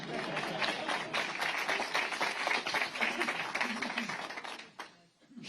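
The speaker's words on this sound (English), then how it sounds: "That's okay. You can applaud for that." Audience applause at a Chris Christie town hall in Nashua, New Hampshire, with dense clapping and crowd noise holding steady for about five seconds before fading out near the end.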